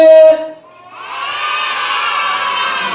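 A group of children at a stage show shout together in loud unison, a sustained cheering roar rising after a brief adult voice and a short pause.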